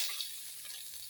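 Garlic frying in a pan for pansit bato gives a bright, hissing sizzle with light stirring, steady and close over about a second, with no talk.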